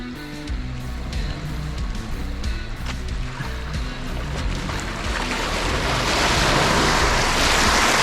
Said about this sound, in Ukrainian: як машина переїжджає калюжу